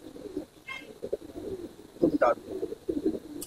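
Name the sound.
pigeon cooing after being released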